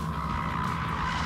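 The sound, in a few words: Porsche Taycan Turbo S Cross Turismo accelerating at full throttle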